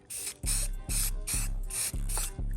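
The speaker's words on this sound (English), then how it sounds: "Oh wow, I sprayed that backwards." Primer hisses from an aerosol spray can onto bicycle crank arms in about six short, close bursts, each a bright sharp spray with brief gaps between.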